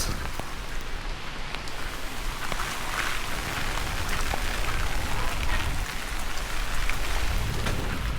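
Heavy rain pours continuously while cyclone winds still reach the area, a loud, dense hiss of drops drumming on surfaces with scattered sharper splashes and no voices.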